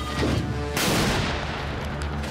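The main gun of a T-14 Armata tank fires, a single loud, close boom that breaks over a rumbling background and then decays into a long roaring wash.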